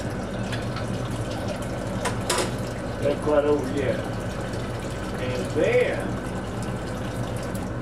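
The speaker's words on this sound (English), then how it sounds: "we're going to add enough water to this to cover our cucumber rings" Water pours from a tap into a container over cucumber rings soaked for pickling, running steadily beneath a voice that talks throughout.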